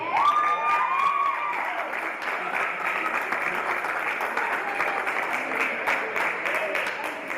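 A crowd at a powerlifting meet claps for the women competitors, sustained and fairly loud, an even wash of hand claps that carries on without break to the end.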